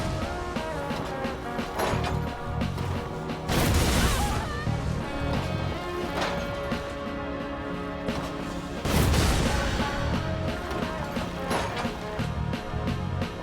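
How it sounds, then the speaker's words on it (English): Jar cannon magic attacks in the Elden Ring video game, two heavy booming blasts a few seconds apart, set within continuous game music and ambience. "I hit him with a little jar cannon magic"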